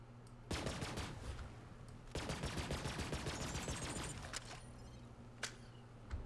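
Rapid bursts of video game gunfire from several weapons, dense and sustained, with a break near half a second and a second barrage after two seconds, then scattered louder single shots toward the end.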